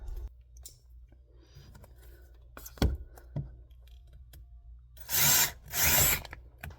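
A power drill boring a hole in a ceiling to run network wire, two short loud whirring bursts near the end, following quieter handling knocks and clicks.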